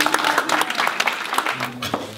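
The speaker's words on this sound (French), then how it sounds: "On peut l'applaudir, hein?" A small audience claps for a street performer in France, a brief burst of scattered hand claps lasting a couple of seconds, close by, with a voice briefly heard near the end.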